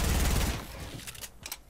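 Rapid bursts of Fortnite gunfire crackle in a dense, loud volley that fades into a few scattered shots, heard on its own.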